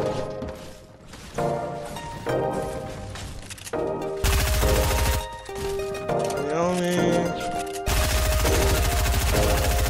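Rapid gunfire in a shooter video game during squad and 1v1 play, loud bursts of automatic shots in dense stretches, with people talking excitedly between and over the shots.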